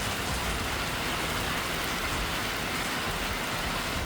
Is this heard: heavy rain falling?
yes